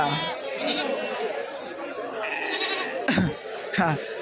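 Nellore Brown sheep bleat at the busy Kadiri livestock market, with a few loud, close bleats rising over the constant chatter of a crowd and someone talking nearby.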